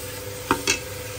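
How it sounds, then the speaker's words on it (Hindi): Taro root (arvi) frying in a pan as it is stirred, with two quick scraping, sizzling bursts close together over a faint background hiss. "अभी अरवी अच्छे से इसको करूँगी फ्राई ताकि ये सही हो जाए"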